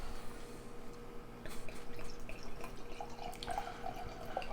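North Coast Old Stock Reserve bourbon-barrel-aged ale pours from a corked bottle into a glass, a soft uneven trickle with light splashes and drips, fairly quiet and close.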